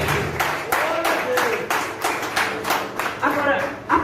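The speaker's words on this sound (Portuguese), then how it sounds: "Então dá uma salva de palmas ao Senhor Jesus" Congregation at a church service clapping hands together in a steady, fairly loud rhythm of sharp claps, with voices and worship noise mixed underneath.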